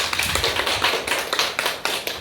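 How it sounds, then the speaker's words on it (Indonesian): A class of schoolchildren claps together in a classroom, a fairly loud, steady run of quick, sharp claps lasting a couple of seconds. "Kita beri tepuk tangan dulu."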